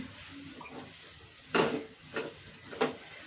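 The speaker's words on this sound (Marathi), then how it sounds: "मसाला मस्त मिक्स करून घ्यायचा" A spice masala for kachori is stirred and mixed in a pan at home. Three sharp scraping sweeps of a spoon come over a soft background hiss, with no voices.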